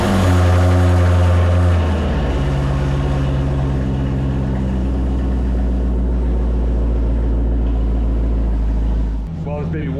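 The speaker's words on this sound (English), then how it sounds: "Let's hear this thing rumble, huh?" A Cadillac CTS-V V8 idles with a deep, steady low rumble close by, a brief rev or shift in tone near the start and a change again near the end, running continuously and loud.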